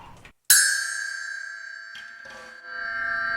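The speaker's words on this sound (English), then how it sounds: "Meinl, the medium bell," Meinl medium 8-inch bell struck once, a sharp metallic attack followed by a long ringing decay with bright overtones, preceded and followed by faint handling noise.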